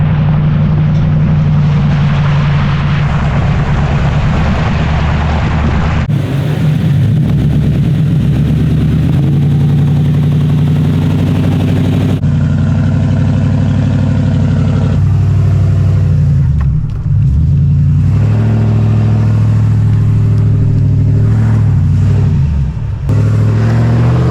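A pickup truck's engine revs hard and steadily on a soft, muddy forest road in fog, with loud, sustained droning and shifts in pitch as it labours for grip, and no voices.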